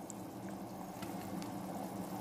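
Water runs and swishes in a pot as salted fish is rinsed again before going into a Balochi masala curry, a soft, continuous close splashing with no talk.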